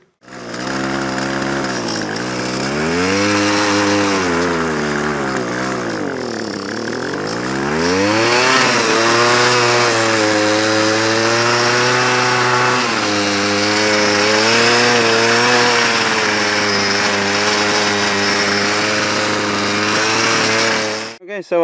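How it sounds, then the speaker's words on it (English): A gasoline garden tiller churns through soil, its small engine revving up and down and labouring continuously for about twenty seconds, loud and close with no talk. "Got my tiller ready here and I'll just keep you guys updated."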